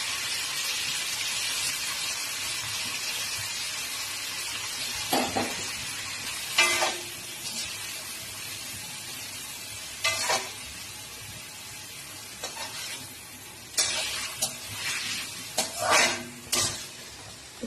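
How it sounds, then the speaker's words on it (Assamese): Paneer fries in oil under a faint, steady sizzle while a spoon stirs it, producing intermittent scraping clinks and short bursts of louder frying. "পনীৰখিনি অকণমান ৰঙচুৱা হোৱালৈকে ধুনীয়াকৈ লৰাই লৰাই ভাজি থাকিব লাগিব।"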